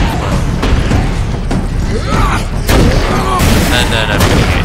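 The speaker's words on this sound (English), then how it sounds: "And then I'm going to use explosives." Explosives and grenades go off in a Warhammer 40k game as dense, loud rumbling booms and crackling bursts that overlap almost without pause, with someone talking over them.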